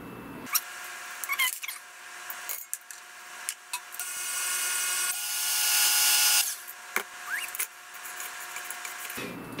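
An electric hand mixer whirs through blueberry banana bread batter as eggs are added, its motor running in uneven bursts with clicks and scraping between the stretches of mixing.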